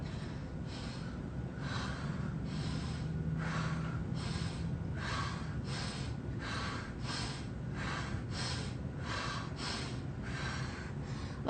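Breath of fire breathing exercise, a long run of quick, rhythmic forceful nasal exhales and inhales repeating steadily at close range, no talking.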